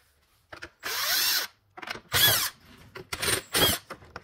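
A power drill drives screws into old parts of a 1979–86 Fox Body Mustang. The motor whirs loudly and close in about five separate bursts of varying length, with short pauses between them.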